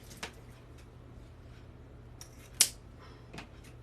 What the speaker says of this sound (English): Let's just go ahead and trim it up. If I can find my scissors.